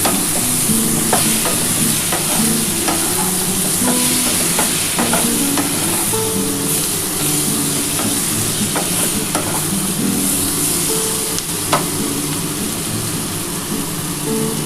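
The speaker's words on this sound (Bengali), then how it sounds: "অল্প একটু চিনি দিয়ে নিলাম দিয়ে ভালো করে একটু ভেজে নিই" Frying in hot oil with a little sugar added, for a light katla fish curry with vegetables: a loud, continuous close sizzle with repeated clinks and scrapes of stirring throughout, with no talking.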